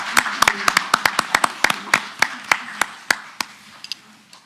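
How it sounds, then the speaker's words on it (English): Gallery audience at a school board meeting clapping for board members, a quick scattered burst of distinct claps that thins out and fades over a few seconds. "give our school board members a round of applause for School Board Appreciation Month"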